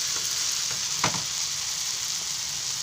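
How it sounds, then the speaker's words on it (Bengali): Spice paste sautés with fried potatoes, soybeans and a little sugar, a constant bright sizzle close up with one soft scrape of stirring partway through. "এরপরেই দিয়ে দেবো ওই ভেজে রাখা আলু আর সয়াবিনগুলো, আর একটু চিনি দিয়ে দেবো,"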